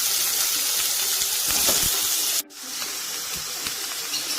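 Chopped onions sizzle in hot oil in a kadai, a loud steady hiss close by, broken by a brief sharp dip partway through before the frying noise carries on evenly.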